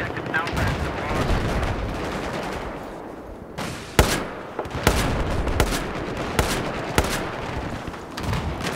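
Gunfire in the video game Battlefield 4 during a tank fight: a constant rattle of automatic weapons with sharper, louder shots at regular intervals, all dense and close, with faint voices mixed in.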